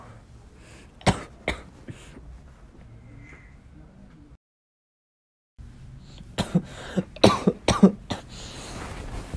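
A person coughs repeatedly in short bursts, pausing in silence for a moment before a louder, rapid run of coughs.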